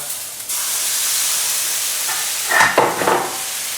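Steady loud sizzle of chicken and mushrooms frying in a pan, with a few scraping stirs near the end.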